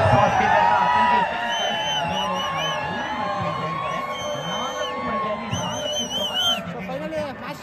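A dense crowd fills an IPL fan park gathered to watch an RCB vs RR cricket match, with steady babble, scattered whoops and shouts, and loud, continuous chatter close around.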